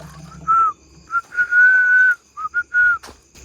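A person whistles a series of short and drawn-out notes in an old graveyard at night, close and clear against a quiet background, with brief pauses between phrases.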